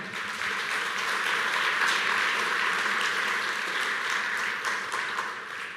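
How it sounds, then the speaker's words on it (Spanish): Sustained applause fills a church during a Spanish-language sermon on Christian leadership. Dense, loud clapping from a full congregation runs unbroken for several seconds with no talking, then eases slightly near the end. "¿por qué están aplaudiendo?"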